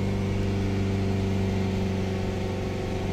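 Ford Transit minibus engine idling steadily, a close, even drone with a constant low hum and no change in speed.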